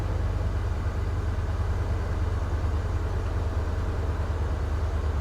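A car engine, a Honda S2000 bought at a Copart auction, idles steadily after starting, a constant low rumble holding evenly throughout with no talk over it.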